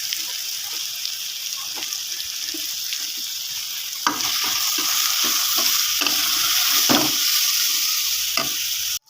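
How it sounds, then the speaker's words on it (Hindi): Grated bottle gourd hitting hot oil in a pan, a constant sizzle that swells louder partway through, with scattered stirring scrapes and clicks close by. "2 मिनट के बाद हम इसको फ्राई करेंगे और साथ ही अब हम इसमें अपने कद्दू जो हमने कद्दूकस किए थे ये ऐड कर देंगे।"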